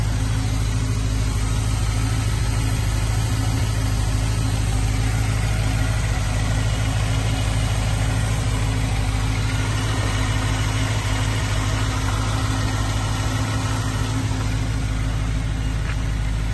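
A 1989 Range Rover Vogue EFi engine idles steadily and evenly up close, a continuous low rumble with a faint mechanical whine, no voices over it.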